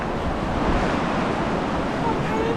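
Rushing water from waterfalls in Karangahake Gorge, New Zealand, a dense, loud, steady roar with wind buffeting the microphone, continuous throughout.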